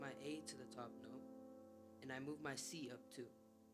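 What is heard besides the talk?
No everyday noises stand out.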